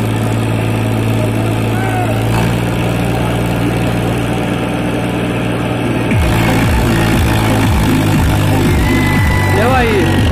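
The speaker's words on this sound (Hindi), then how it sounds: "नया ट्रैक्टर पावर ट्रैक यूरो" A Powertrac Euro 50 tractor engine idles steadily with a loud low drone, then its pitch shifts as it revs and labors, with voices talking over it.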